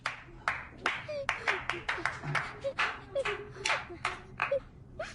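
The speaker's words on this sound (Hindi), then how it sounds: "वाह तालियां हो जाएं।" A handful of people clap in short, irregular bursts after a child's song, sharp close hand claps with brief pauses, a few faint voices mixed in.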